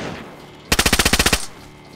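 A rapid burst of about a dozen automatic gunshots from the video game DayZ, sharp and fairly close, standing out against a quiet background.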